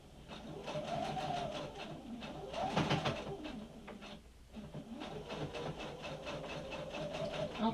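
A sewing machine stitches steadily through several layers of fabric while a welder's four-panel cap is sewn, the motor whirring near and continuous, with pitch that briefly rises and falls as the speed changes.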